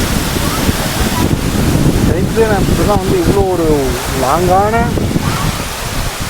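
Agaya Gangai waterfall in the Kolli Hills of Tamil Nadu roars as a loud, steady broadband rush with wind buffeting the microphone, while someone talks over it close up.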